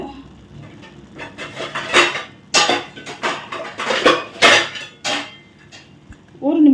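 A metal plate set down over a pan of rava kesari gives a string of loud clinks and clatters, irregular and close, with no talk over it.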